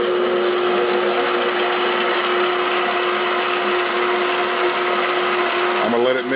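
An electric mixer churns cheesecake batter with vanilla extract, a steady, loud whirring hum that runs the whole time with a constant motor tone, easing slightly near the end.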